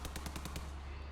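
Rapid gunfire in the Signalis video game, a quick burst of about six evenly spaced shots over a low steady hum, loud and close, then ringing off into the background drone.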